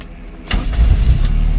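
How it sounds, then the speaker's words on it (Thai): A Mazda Familia engine cranks briefly and catches, then settles into a steady low rumble, close by. "เดี๋ยว ลอง สตาร์ทฟังเสียงสักหน่อยดีกว่า"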